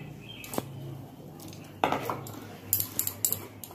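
A utensil stirs salt, turmeric, chilli powder and fresh green chillies in a pot, with scraping and clinking metal knocks that grow louder and more frequent in the second half and no voices.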